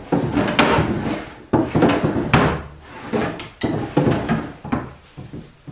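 Wooden furniture drawers slide open and shut repeatedly, several rough scraping strokes with soft knocks as each stops, close and fairly loud with no talking.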